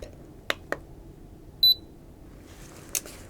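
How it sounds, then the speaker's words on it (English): A single short, high electronic beep from a thermometer sounds once, with a few faint clicks and soft rustling around it in a quiet room. "You will hear a beep."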